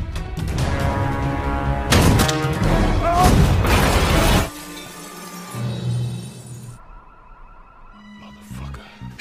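Film action scene in which Shaft fires several gunshots at a drug dealer, who is thrown back and falls crashing out through a window; loud dense bangs and crashes over the first few seconds, then a quieter tail with scattered impacts.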